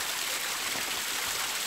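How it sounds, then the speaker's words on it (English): Spring water on Mount Wellington running steadily, a continuous broadband rush and trickle with no breaks, fairly close and moderately loud, with no voices. "Mount Wellington spring water. The reason I'm keeping it running underwater"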